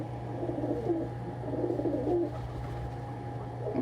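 Pet pigeons coo in a low, steady murmur indoors, soft overlapping calls running continuously over a constant mechanical hum with no talking.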